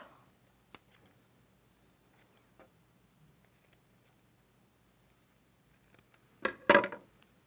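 Scissors snipping through tape while making a feather headband, a faint single sharp cut near the end after a quiet stretch of small rustles and handling sounds.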